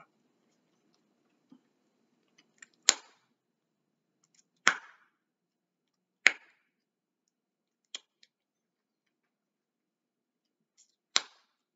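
Sharp, isolated bubble gum pops ring out one at a time with long quiet gaps between them, crisp and close in an otherwise silent space.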